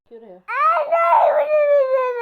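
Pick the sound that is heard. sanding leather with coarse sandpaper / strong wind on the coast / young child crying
young child crying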